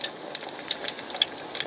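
Two small donut holes frying in hot oil, a continuous close crackle and sizzle with scattered bright pops.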